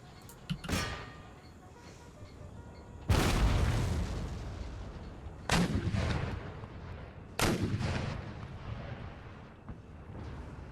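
Artillery batteries fire in the Empire: Total War battle game, with several heavy booming volleys spaced a few seconds apart, each a loud crack followed by a rumbling decay over a low background.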